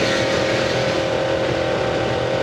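Historic race cars at Goodwood Revival roaring toward a fast corner, a loud, steady engine drone with a strong sustained tone, close and continuous with no talk.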